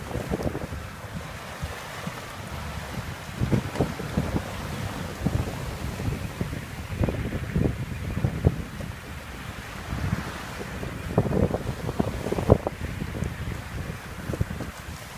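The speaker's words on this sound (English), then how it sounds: "we're in the North Atlantic Ocean, day two, sailing back to Maryland from St. John" A sailboat running under a code zero sail on the open North Atlantic Ocean, with steady wind rushing over the microphone and waves sloshing and splashing against the hull in irregular surges.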